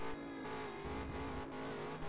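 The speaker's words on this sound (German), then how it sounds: "Die Hinterräder drehen durch." Race car doing a practice start at a Valencia racing event, rear wheels spinning: a steady, loud engine drone with wheelspin, continuous across the short stretch, no talk.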